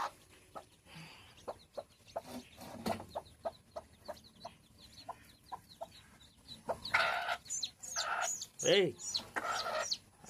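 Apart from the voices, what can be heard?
hen clucking with chicks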